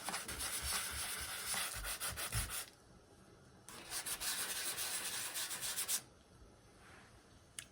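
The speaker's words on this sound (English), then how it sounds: "I was sanding and making pretty." Hand sanding on a surface during a DIY lamp and ceiling installation project, with steady scratchy rubbing strokes in two long bursts separated by a quiet pause, close and fairly loud, no talking.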